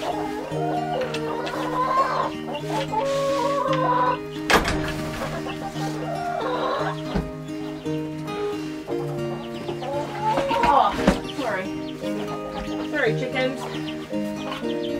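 Chickens clucking and squawking close by, with bursts of louder calls and a person speaking briefly among the birds.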